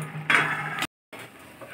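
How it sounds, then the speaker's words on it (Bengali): A lid lifted off a cooking pot of veg pulao with a quick metallic clatter, followed by soft kitchen background noise after a brief gap of silence. "ঢাকা তুলে দিলাম।"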